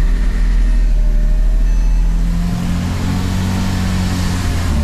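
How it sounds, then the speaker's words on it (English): A Porsche Cayman S engine fires up after a new sensor is installed, settling into a loud, close, rumbling idle whose tone shifts partway through as the revs change. No one speaks. "now it's time to fire up the engine."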